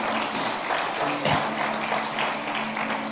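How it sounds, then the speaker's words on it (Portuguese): Church congregation applauding during a Sunday sermon, a steady wash of clapping from many hands lasting the whole stretch, moderately loud and even, with a faint voice or tone briefly underneath. "Você pode dar um aplauso a esse Deus maravilhoso?"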